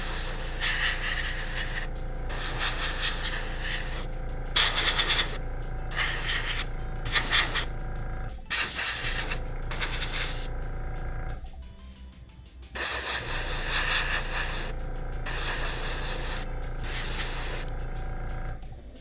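Light pink paint is sprayed onto a 3D printed part in repeated close, loud hissing bursts of one to three seconds, separated by short pauses and faint handling sounds.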